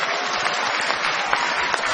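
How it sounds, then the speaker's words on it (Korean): Dense, steady applause from a large audience at a political party convention, continuous and loud throughout with no pauses. "박주선 비대위원장님께 다시 한번 뜨거운 박수를 부탁드리겠습니다."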